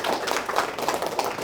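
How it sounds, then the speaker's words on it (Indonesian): A short burst of applause, several hands clapping together in quick, uneven rhythm. "tepuk tangan buat ini"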